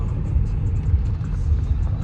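A car's engine rumbles steadily while it drives, a constant low drone with road noise and no break across the stretch; no one speaks.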